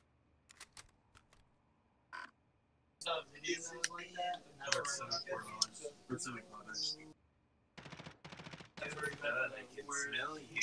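Gunfire from the video game Warzone with an FFAR and Kar loadout: a few sharp early shots, then rapid bursts under excited talk among players.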